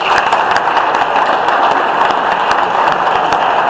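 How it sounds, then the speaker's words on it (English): Steady, dense applause from a general-meeting audience thanking a new ongoing sponsor, loud and sustained with no talk over it. "let's give them a round of applause"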